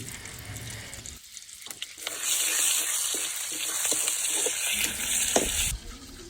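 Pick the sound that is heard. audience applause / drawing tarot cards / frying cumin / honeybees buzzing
frying cumin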